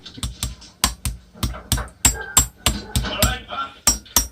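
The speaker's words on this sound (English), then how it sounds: "Just start tapping that down." A hammer taps a fidget spinner bearing into a scooter, about a dozen quick, sharp metallic knocks at a steady, close rhythm.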